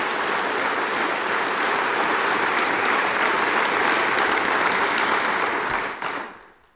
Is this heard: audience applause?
yes